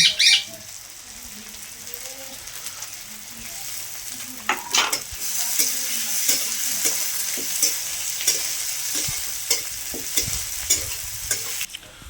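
Onion and green chilli frying in a pan for crab curry, a bright hissing sizzle that swells partway through, with intermittent spatula scrapes and knocks close up and no voices.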